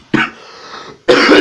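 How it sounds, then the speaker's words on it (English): Two sharp, close coughs from a person with a cold and sore throat, separated by a brief pause of raspy breath. "I've been coughing"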